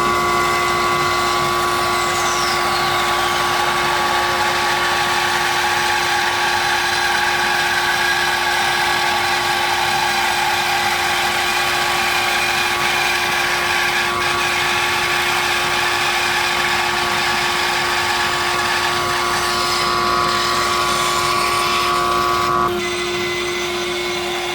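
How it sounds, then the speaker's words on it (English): A bandsaw runs with a steady motor hum and high whine throughout while making two cuts, the blade's tone shifting under load and stopping abruptly near the end. "Let's head over to the bandsaw, get it set up, and make the 2 cuts."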